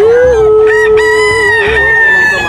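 A rooster crows loud and close at a cockfighting expo, one long sustained call with a strong harmonic stack that holds steady and then tails off, over a low murmur of crowd noise.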